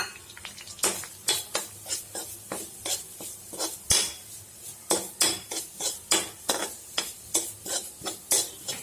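Grated coconut for khajur coconut laddu is stirred and fried in a pan, a spoon scraping in quick, regular strokes over a soft steady sizzle, close and fairly loud, with no voices.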